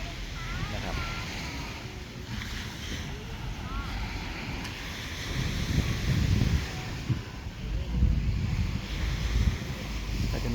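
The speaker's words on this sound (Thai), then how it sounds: "ถ้าฟังเสียงคลื่น" Ocean waves roll and wash onshore at Jomtien Beach under gusty wind noise, with people talking nearby.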